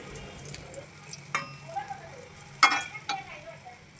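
Pointed gourd (potol) slices frying in hot oil and being lifted out, giving a soft, quiet sizzle with a few sharp clinks and scrapes of a utensil against the pan.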